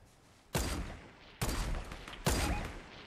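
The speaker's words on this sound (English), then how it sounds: "How do I miss all these shots?" Gunfire in the Fortnite battle royale game near Loot Lagoon: three loud, sharp shots spaced about a second apart, each with a ringing tail that fades before the next.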